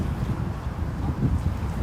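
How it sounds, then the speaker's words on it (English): Wind gusts across a microphone on a cold day at a Barcelona beach, a continuous low rumbling buffet that rises and falls throughout. "The wind picks up too much."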